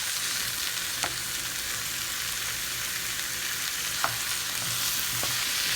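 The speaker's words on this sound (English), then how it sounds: "Break it down inside the pot, like so, like that." Meat is broken down in a hot pot for Bolognese, with a steady, dense sizzle throughout and a few sharp utensil taps and scrapes, close by and without talking.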